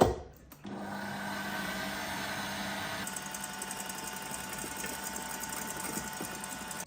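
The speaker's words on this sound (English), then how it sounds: "So now I am going to whisk this until it forms soft peaks." An electric whisk beating egg whites to soft peaks for a pistachio tiramisu, a steady close motor whir that drops briefly, then runs on evenly and slightly brighter.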